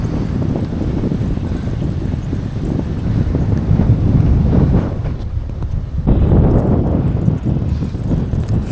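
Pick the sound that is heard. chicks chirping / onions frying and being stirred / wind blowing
wind blowing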